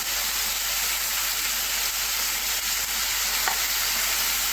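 Colored bell peppers stir-fry with chicken livers in a soy sauce pan, producing a continuous, even sizzle that stays loud and close throughout.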